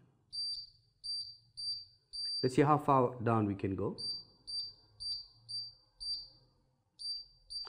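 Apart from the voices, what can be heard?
electronic buzzer sounding on breadboard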